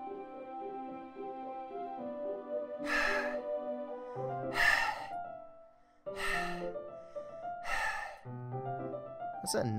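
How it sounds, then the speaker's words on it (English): In the video game Doki Doki Literature Club, someone takes four or five sharp, breathy gasping inhales at uneven intervals over a soft, sustained musical backdrop. "Sounds like breathing. Sharp inhale."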